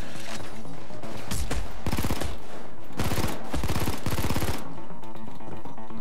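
An automatic gun in the Payday 2 video game fires in rapid bursts of dense, loud shots with short pauses between them, and game music and effects play underneath.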